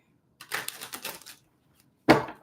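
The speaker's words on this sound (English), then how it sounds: "Last shuffle here." A deck of tarot cards shuffled by hand, heard up close as a quick burst of papery riffling that fades, a short pause, then one sharp tap as the deck is squared.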